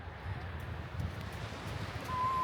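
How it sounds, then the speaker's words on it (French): Wind blows outdoors by the sea as a soft, steady rushing with a little microphone buffeting, fairly faint and continuous, with no voices. "Il y a du vent."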